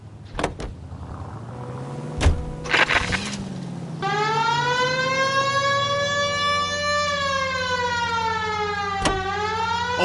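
A police car siren in the video game L.A. Noire starts abruptly and wails steadily with a rising and falling pitch, loud and close, over low engine rumble. A few clunks and bangs come just before it.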